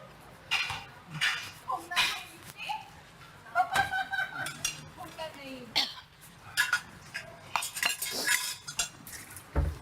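A spoon and plate are washed by hand, with sharp metallic clinks and scrapes coming in irregular bursts close by. Voices talk intermittently in between.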